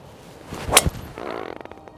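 A golf club swung for a drive on the final hole of a round: a quick swish building to a sharp impact crack near the middle, followed by softer rustling.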